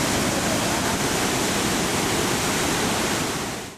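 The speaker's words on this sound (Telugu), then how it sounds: "జలాశయాలు నిండగా గేట్లు ఎత్తి నీటిని విడుదల చేశారు" Floodwater gushes through the opened gates of a full reservoir with a loud, unbroken roar, constant and close, with no voices, fading out at the very end.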